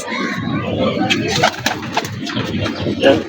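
Old-breed domestic pigeons coo softly at close range, with low murmuring calls repeating under faint background voices and some scattered rustling.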